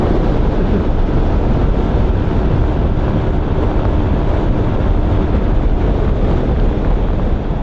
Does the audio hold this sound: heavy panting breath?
no